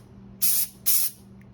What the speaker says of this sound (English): just me spraying over there made spots all over there